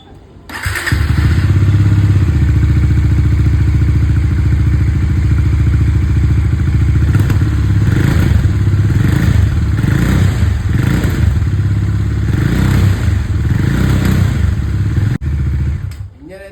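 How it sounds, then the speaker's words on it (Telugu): A Bajaj Dominar 400 motorcycle engine idles steadily and loudly after a general service, with a few throttle blips and faint clatter, running close by for most of the stretch before cutting out near the end. "ఇప్పుడు ఇంజన్ అయితే స్టార్ట్ చేద్దాం ఎంత ఎట్లుంటుంది అనేది"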